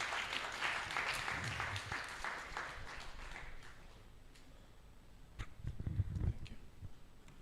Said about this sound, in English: Let's welcome with a big hand clap.